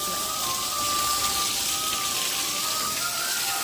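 Steady rain falls throughout, a dense, even patter close by with no break and no voices.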